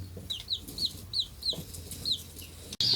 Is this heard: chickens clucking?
yes